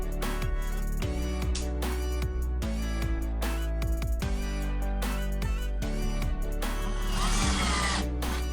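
A power drill drives screws through pre-drilled holes to attach a bookshelf bracket, running almost continuously with repeated short speed changes over a steady mechanical hum.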